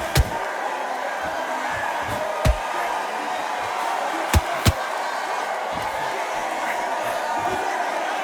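A boxing arena crowd buzzes with a steady, dense murmur, broken by a few sharp, isolated thuds or slaps.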